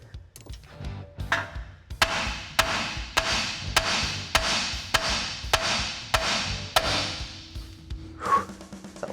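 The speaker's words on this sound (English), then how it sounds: "This pickle fork is actually for an air hammer, but I have a regular hammer and I think that'll work just fine" A hand hammer strikes a pickle fork during steering work on a 1994 Ford F-150, about ten sharp metallic blows at a steady rhythm with ringing decays, close and loud, preceded by a few lighter taps.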